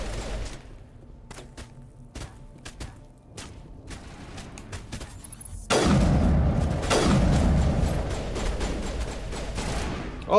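Mass Effect gunfire: scattered single shots and thuds, then an abrupt switch to loud, continuous automatic fire mixed with booms that keeps going to the end.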